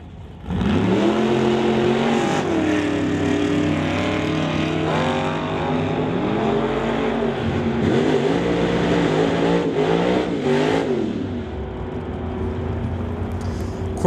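A 1972 Plymouth and a BC Racing drag car launch side by side at an NHRA Summit ET event, engines roaring loud and close, revving up in long rising sweeps that stay loud throughout before easing slightly at the end.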